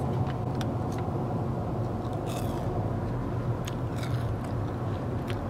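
Tater tots, small fried potato bites like little hash browns, crunched between teeth up close at Disney World, a few crisp bites over a steady hum of background crowd and traffic noise.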